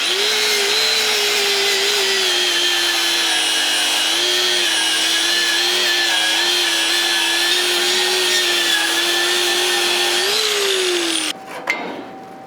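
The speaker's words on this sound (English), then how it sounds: "I'm going to prep the surface, get all this coating off, and I get through the mill scale" A power tool whines steadily at high speed as it strips coating and mill scale off steel on a fly fishing raft trailer build, loud and unbroken for about eleven seconds before it winds down and stops.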